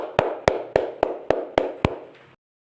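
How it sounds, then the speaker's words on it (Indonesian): Seven hand claps in a steady, even rhythm, close and crisp, with no other sound around them. "bunyi tepuk tangan"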